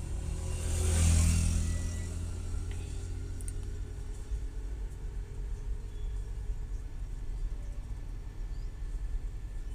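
Road traffic on the HiTech City bridge in Hyderabad: a steady low rumble of engines with one vehicle swelling past early on, then a continuous mid-distance traffic drone without voices.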